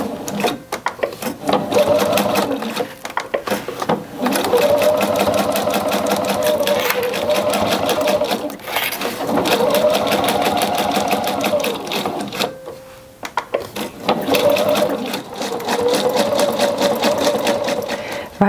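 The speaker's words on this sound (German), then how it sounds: "Mit einem Geradstich abnähen und dann, wie bei den Seiten auch, mit einem Zickzackstich die Nahtzugaben aufeinander nähen." A sewing machine running close up on a fabric bag, stitching straight and zigzag seams in several bursts of steady rapid whirring separated by brief stops and handling clicks, with no talking.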